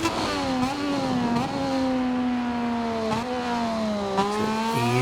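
Moto2 motorcycle engine in MotoGP 24 at Aragon, held at steady high revs with a continuous whining drone that rises and dips slightly as the throttle eases, with brief shifts, loud and close throughout.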